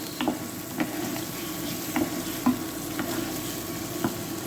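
Heinz barbecue beans stirred in a pan for a pasta bake, with a steady low sizzle and a few soft scraping knocks of the spoon roughly every second, close and fairly quiet.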